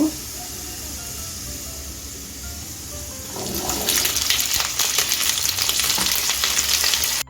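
Cut potatoes dropped into a pan of reddish fried onions: a quieter sizzle first, then a sudden louder, hissing burst of frying that stays strong and close to the end.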